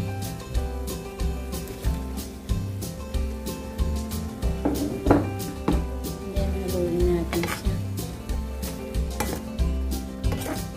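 Eggplant tipped into a pan of mince beef while it cooks, giving a steady run of clinks and scrapes from utensils on the pan over a low sizzle, close by and fairly loud with repeated stirring taps.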